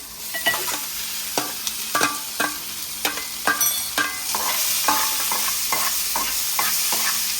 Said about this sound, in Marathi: कांदा गुलाबी झाला त्याच्यात टोमॅटो टाक